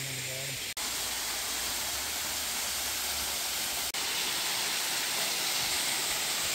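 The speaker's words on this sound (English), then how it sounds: "Gorgeous waterfall." Freedom Falls waterfall roaring as a loud, steady broadband rush of falling water, constant throughout with a brief cut near the start and again midway.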